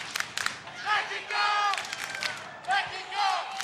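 A crowd in San Luis Potosí, Mexico, erupts in cheers, whoops and clapping after the 2004 IRF World Racquetball Championships girls' singles final, with bursts of shouting rising and falling over scattered applause.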